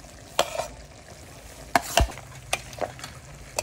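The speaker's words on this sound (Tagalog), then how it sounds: "halo-haloin lang po natin para mag-mix po yung seasoning po sa laman po ng pata po" Stirring seasoning into pork leg puchero with potatoes in a pot: scattered scraping and knocking strokes of a utensil over a low simmering sizzle, close and without speech.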